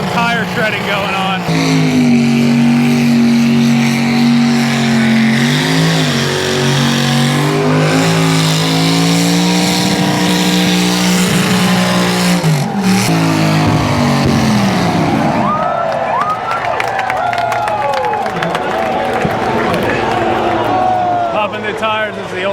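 A car engine revs hard as tires spin and screech in a burnout competition at the Freedom Factory, loud and continuous, with a crowd and announcer talking over it.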